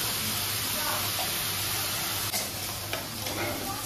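Spices with turmeric fry in hot oil for bottle gourd shukto, giving a steady close sizzle with a few stirring scrapes and clinks.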